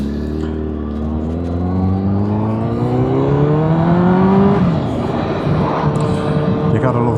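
A motorcycle engine revs up as the rider pulls away, its rising drone climbing steadily in pitch, loud and close, then settling into a steady hum.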